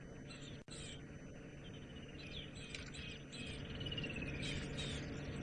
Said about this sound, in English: Can we hear the birds calling in the background?